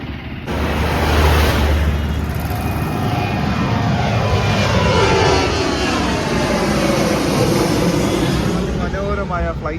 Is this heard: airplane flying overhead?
yes